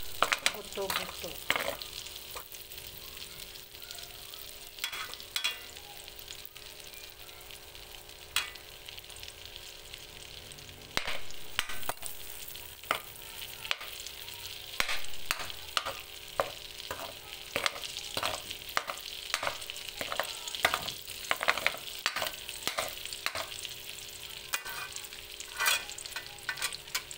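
Garlic and onion sauté in melted dairy cream in a pan for pork bone kaldereta, with a steady close sizzle and frequent scraping stirs of a utensil against the pan.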